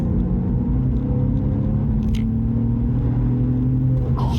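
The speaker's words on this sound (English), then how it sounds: "when you plant it, that flat six roar just, oh, it just gets more and more and more" A Porsche 911 996 with a flat-six engine gives a steady, loud low rumble close by, with a faint tick or two over it.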